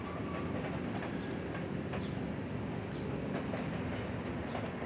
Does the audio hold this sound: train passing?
yes